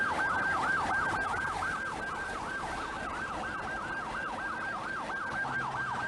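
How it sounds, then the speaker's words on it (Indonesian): An ambulance siren wails in a flooded traffic jam on a coastal road in Semarang, Indonesia, a steady rising-and-falling whoop cycling continuously and loud amid low traffic rumble. "ambulan akhirnya dapat melintas karena bantuan warga sekitar"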